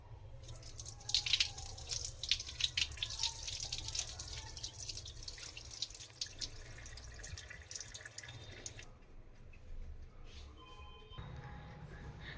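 Running water splashes and drips close by as face cream is rinsed off, a soft irregular trickle and patter that continues throughout, with faint background noise.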